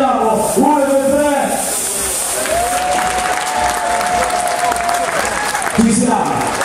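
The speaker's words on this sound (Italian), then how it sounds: "un applauso grande, lo proviamo, 1, 2, 3" An audience at a New Year's Eve Michael Jackson tribute dance show claps continuously in a loud, dense wash of applause, and a voice talks over it throughout.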